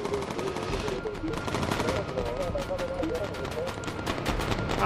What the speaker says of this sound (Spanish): Nos está disparando ahí con ganas.